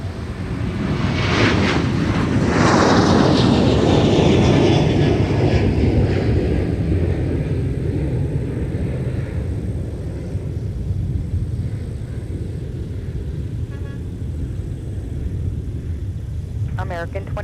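Airliner taking off from runway 30 left at Minneapolis–St. Paul airport, a loud broad jet roar that swells early and slowly fades as it climbs away, with radio voices faintly over it.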